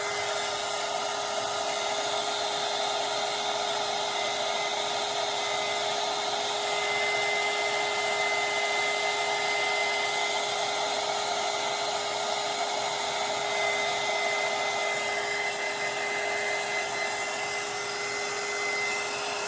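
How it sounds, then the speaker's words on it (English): A heat gun blows steadily on an epoxy-coated tumbler, giving a continuous loud whooshing hiss with a fixed motor whine, unbroken for the whole stretch and with no talk. "I'm going to use my heat gun to make it start moving."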